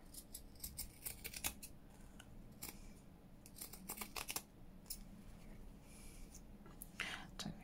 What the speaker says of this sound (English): I'm going to just trim as high as I can just to get rid of the zigzag